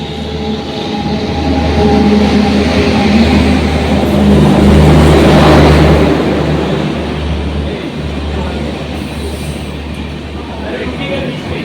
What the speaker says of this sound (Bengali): এই যে বন্ধুরা আজকে আমাদের ট্রেন ঢুকে গেছে,